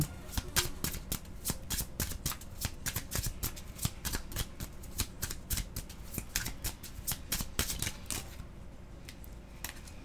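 Tarot cards are shuffled close up in a rapid, continuous riffling run of crisp flicks and slaps that lasts several seconds and thins out at the end.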